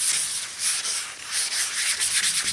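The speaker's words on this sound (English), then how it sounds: "Just spray this stuff on." Aerosol guide coat hisses in a series of short bursts onto a car hood, bright and close, with brief pauses between passes.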